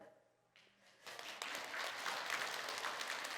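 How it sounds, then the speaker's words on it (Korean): An audience breaks into applause, starting faintly and swelling after about a second into sustained, dense clapping from a large crowd. "옆에 있는 사람이 박수 치니까 따라 치는 거죠"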